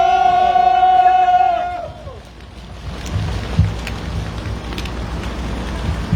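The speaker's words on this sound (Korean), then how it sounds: "뜨거운 박수로 모시도록" Applause and cheering from an outdoor campaign rally crowd at the Nohyeong intersection, welcoming a National Assembly member, rise as a sustained broad wash of noise after a long held tone fades out.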